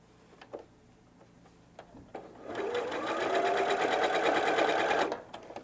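A sewing machine stitches fabric in one steady, fast-running burst of about two and a half seconds, close and loud, with a few soft clicks and handling sounds before and after.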